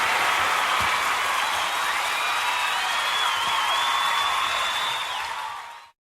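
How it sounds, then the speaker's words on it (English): Sustained, dense applause from a studio audience at a Christmas television show, steady and loud throughout, then cutting off abruptly at the end. "we'll even throw in an extra round of applause"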